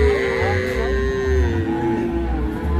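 A small cross-breed calf gives a sustained, slightly falling moo at a village cattle market, close and clear, over steady background chatter and crowd noise.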